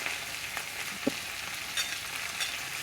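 Onion and garlic fry in oil in a pan, giving a faint, steady sizzle with a couple of soft clicks of a utensil and no voices.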